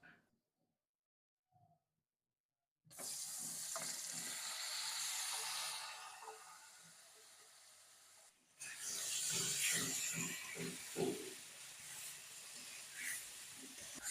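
Marinated eggs and potatoes go into hot tempering oil after a near-silent pause. A loud, sudden hissing sizzle bursts up and gradually eases, then flares again with sputtering pops as the pieces are moved.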